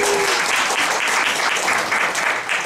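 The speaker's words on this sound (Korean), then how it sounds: "일단 박수 한번 드리시죠." An audience at a software lecture gives a loud, dense round of applause, many hands clapping continuously and evenly from start to finish.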